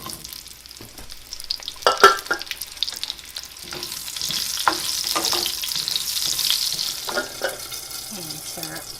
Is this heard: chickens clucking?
no